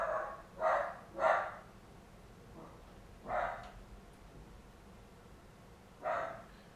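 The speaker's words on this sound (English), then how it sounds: "My dog is barking." A dog barks in short bursts, a quick pair followed by two isolated barks, somewhat distant and alone in a quiet room.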